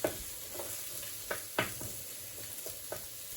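Mushrooms sauté in a dry pan with no oil, giving a soft sizzle under scattered scraping stirs and clacks of a utensil, quiet and close.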